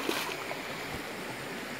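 Stream water flowing through a Malaysian rainforest, a steady close rushing and gurgling wash that holds even for the whole short stretch, with no talk over it.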